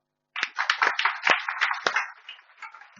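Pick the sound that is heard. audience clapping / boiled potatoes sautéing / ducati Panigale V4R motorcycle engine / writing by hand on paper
audience clapping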